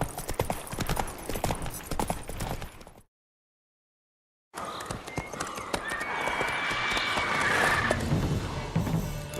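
Hoofbeats of Roach, the horse in The Witcher 3, clip-clop steadily over a busy game soundscape, broken by a short silent gap before the rhythmic trotting resumes alongside whistling, shrill tones.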